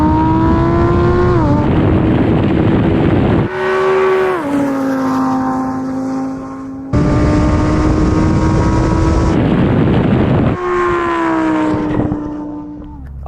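A Lamborghini Performante and a Cayenne Turbo GT launch in a drag race, engines roaring loud and close with rising pitch, cut by sharp gear shifts and brief drops between pulls.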